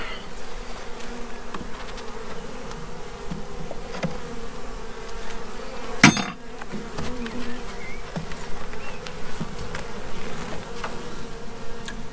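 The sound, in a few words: honey bees buzzing while a drone-laying colony is dissolved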